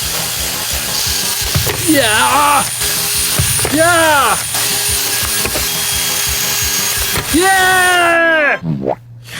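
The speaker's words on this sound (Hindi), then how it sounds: "मुझे लगता है ये ड्रिल शू तक पहुंच गई और उसका एक छोटा सा टुकड़ा टूट गया।" Power drill boring through a block of ice toward a shoe frozen inside, heard as rising whining, warbling tones in short bursts over a steady grinding hum, with talk running alongside.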